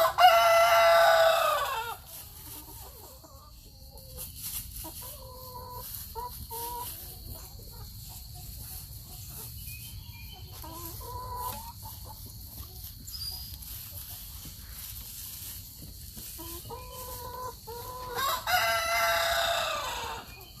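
Chickens and a rooster in a garden: a rooster crows loudly at the start and again near the end, with hens clucking and chattering in bursts between the crows against a steady low background hum.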